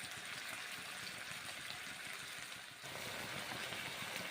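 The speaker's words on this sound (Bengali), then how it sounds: "তারপরে ছেড়ে দিচ্ছি ওলকপি," Kohlrabi and beans hitting a hot wok after a splash of spice-rinse water, giving a steady, loud sizzle and hiss with a brief dip and renewed surge partway through.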